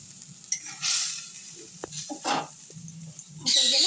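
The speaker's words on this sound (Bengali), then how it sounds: "এতে আমি এবার নেড়ে নিচ্ছি।" A pan of mustard fish curry base being stirred after turmeric and salt go in, with scattered scrapes and soft sizzling bursts, quiet and close, ending in a louder stretch of cooking noise.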